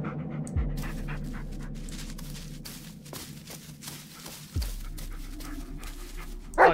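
Dog panting in the Blair Witch video game, steady breathy rhythm close up with soft game ambience and a couple of low thumps.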